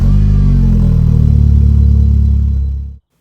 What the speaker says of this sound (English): So to conclude the test, we're going to try a little cold start now.